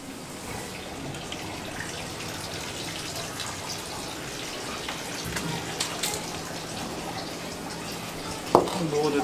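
Water runs steadily from a tap during washing, a continuous mid-loud hiss with faint clatter and a sharp knock near the end; a little talk may be faintly present.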